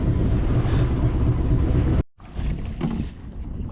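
A fishing boat's engine drones steadily over wind and water at sea, with a brief dropout midway before the rumble resumes slightly quieter.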